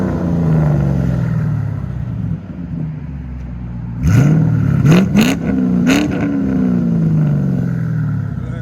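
A 2008 Ford Mustang GT California Special with a 4.6L V8 and Pypes Bombs exhaust idles with a loud, steady rumble, then gets blipped three times in quick succession, each rev swelling and falling back to a throaty idle.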